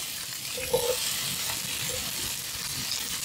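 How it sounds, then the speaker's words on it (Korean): Onions stir-frying in a pan give a steady close sizzle with faint stirring scrapes, no voices over it. "자, 그리고 양파를 볶아줄게요."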